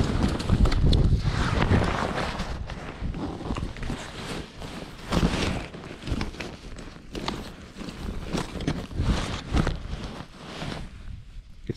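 Wind gusting over a lake in Finland during a walleye fishing trip: a steady, loud rush with microphone buffeting and irregular bumps and knocks, no voices.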